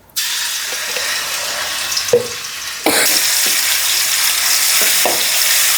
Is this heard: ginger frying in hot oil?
yes